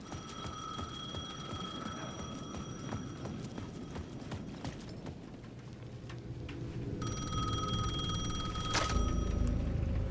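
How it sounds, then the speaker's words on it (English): In the video game Alan Wake 2, a payphone rings in two separate bursts over a quiet, busy background of rattling and clopping sounds. "The payphone at the edge of the plaza was ringing again."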